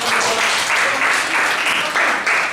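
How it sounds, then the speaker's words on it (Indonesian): Schoolchildren clapping for their classmates in a classroom, a short burst of lively, uneven group applause in rising and falling waves. "Boleh kasih tepuk tangan dong buat teman-teman"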